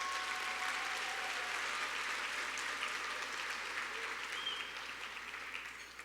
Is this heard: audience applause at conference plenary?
yes